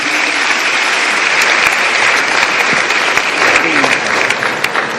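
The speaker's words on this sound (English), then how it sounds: "Let's give him another round of applause." An audience at a formal event on the state of education in Ghana gives a sustained round of loud, dense clapping that continues evenly throughout.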